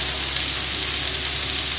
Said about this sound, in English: all we're going to do here is just cook out the raw flavour of the onion and just start cooking the mushrooms